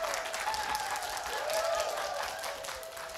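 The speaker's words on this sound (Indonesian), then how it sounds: "Kita berikan tepuk tangan yang sangat meriah." Steady applause fills the hall at the launch ceremony for the IATRI and IATLI institutes, a dense wash of many hands clapping at moderate distance and fading slightly near the end.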